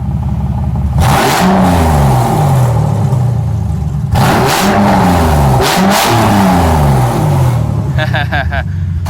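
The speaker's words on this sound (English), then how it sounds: "Exhaust, no exhaust, open header." A Mercedes SL600 engine with open headers and no exhaust revs hard through repeated rising bursts, loud, raspy, raw and unmuffled, with brief speech over it near the end.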